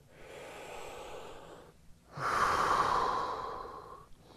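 An instructor breathes slowly and audibly during a beginner lower-body workout: a soft, drawn-out inhale, a short pause, then a louder, longer exhale that trails off, close to the mic with no talking.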